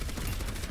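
Gunfire from the video game Overwatch, a dense, continuous burst of shots filling the whole brief moment with loud, noisy crackle.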